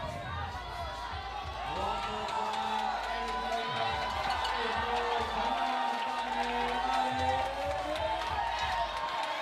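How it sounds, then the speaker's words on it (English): A large crowd at an outdoor bouldering competition final in Graz cheers and roars continuously, loud and sustained, while a commentator talks over it. "The crowd here is immense."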